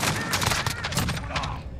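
An Origin-12 shotgun with a 25-round drum magazine fires rapidly in Call of Duty: Modern Warfare, a dense, continuous burst of booming blasts running throughout.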